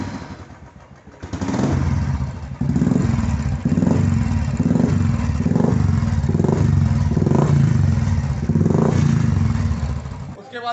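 A Royal Enfield Bullet motorcycle fitted with an aftermarket Dolphin silencer exhaust idles with a thumping beat and is blipped repeatedly, giving a rhythmic series of short revs close by.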